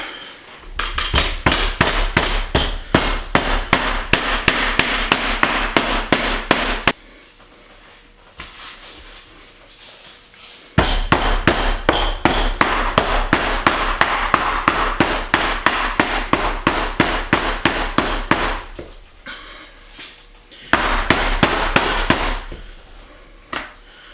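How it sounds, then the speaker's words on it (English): Rapid, steady hammer blows pound steak on a wooden board in long bursts, with a few brief pauses between rounds of striking. "now watch as I'm pounding this so you see how I'm striking the hammer"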